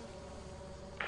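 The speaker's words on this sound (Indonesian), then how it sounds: "Ini sarang lebah anjing, woi." Bees buzz steadily at a beehive in the video game Lethal Company, a faint close drone with a brief louder burst at the end.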